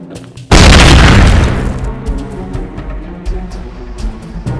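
A booby-trapped elevator explodes in the video game Ironfall Invasion, a sudden loud boom with a long rumbling decay that fades into lingering debris crackles and ambient noise.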